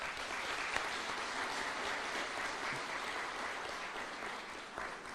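Audience applauding members of Parliament at the national Constituency Development Fund 20th anniversary event in Kenya; steady, dense clapping from a large crowd, sustained evenly throughout with no voices on top.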